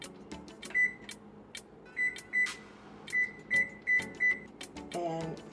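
An oven's control panel gives a series of short, sharp electronic beeps as bake is set to 350 and started in a home kitchen, about eight separate quiet chirps with faint clatter between them.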